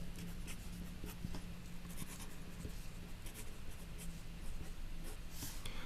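Pen scratching steadily on paper while equations are written out by hand for a math lesson on parallel and perpendicular lines, a soft continuous rasp with faint tapping strokes, no talk.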